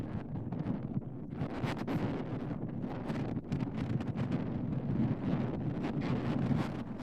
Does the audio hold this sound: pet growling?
no